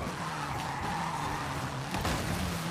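A car's tires squeal and skid while drifting in Forza Horizon 5, a sustained screech over engine drone that swells again near the end.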